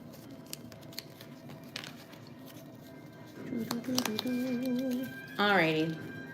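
Playing cards are shuffled during a tabletop game, making soft, scattered riffling clicks and rustles, followed by a voice talking near the end.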